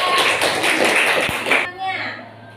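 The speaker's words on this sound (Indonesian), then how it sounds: "Oke, tepuk tangan buat kelompok 2." Classroom applause for a student group, a dense wash of many hands clapping loudly for about a second and a half before cutting off, followed by quieter room noise with voices.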